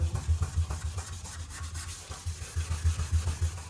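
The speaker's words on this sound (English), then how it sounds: "then you use your sanding pad" Rhythmic scuffing and rubbing strokes of a sanding pad across a car body, steady back-and-forth passes at close range with no talking.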